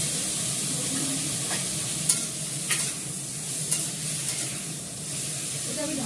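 Ginger paste sizzling in a pan of tomato chutney while a spoon stirs it, a steady frying hiss with a few sharp scraping clicks of the utensil against the pan.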